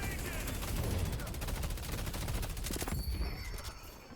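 Rapid gunfire from slowing bullets in the hero shooter game Deadlock, dense bursts of shots fired continuously at close range, thinning out near the end.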